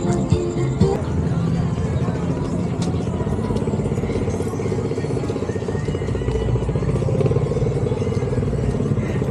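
Motorcycle riding along with a steady engine drone and rattling clatter throughout, loud and continuous, with a brief sharper knock near the start.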